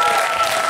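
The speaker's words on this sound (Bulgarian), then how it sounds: "Аплодисменти за Боян!" Brief burst of studio audience applause on a Bulgarian quiz show, dense clapping with a sustained tone or music underneath, loud and continuous for under a second.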